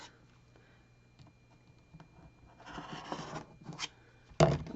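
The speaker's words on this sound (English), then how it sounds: "I'm going to go ahead now and trim this block." A rotary cutter trims the edges of a pieced quilt block on a cutting mat, giving a few short, rasping slices that grow louder and end in one sharp close stroke, with no talking.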